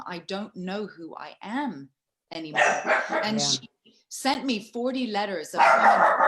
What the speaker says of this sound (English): that's my dog, sorry